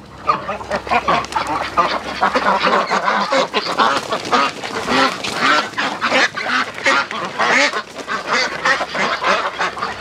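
Pekin ducks raised in confinement quack loudly and continuously as one is caught, a dense, close chorus of overlapping honking calls.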